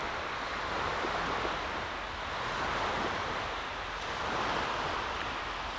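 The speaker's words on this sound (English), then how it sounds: "A boat just came into the boat launch and created some waves." Wash from a boat entering a boat launch laps and rushes as a steady, broad swell of water noise, moderately loud and close, with some wind buffeting and no talk.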